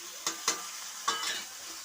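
Meat is sautéed with spice masala in a pan: a soft continuous sizzle with three sharp stirring clacks spaced unevenly, fairly quiet and with no talking.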